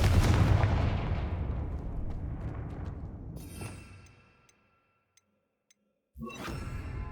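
A Confringo fire-blast spell in the video game Hogwarts Legacy booms out as a loud, rumbling explosion that decays over several seconds into near silence before another blast erupts.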